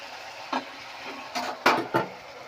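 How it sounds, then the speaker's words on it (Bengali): Splash and sizzle as a little water hits a pan of spiced vegetarian potato curry, with a few sharp clinks and bursts of frying against a low steady background. "কষানো হয়ে গেছে হ্যাঁ এবার আমি এখানে একটু জল দিয়ে দেবো"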